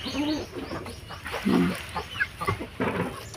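A sick mother hen clucks in short, irregular bursts nearby, with soft rustling and quiet background noise between the calls.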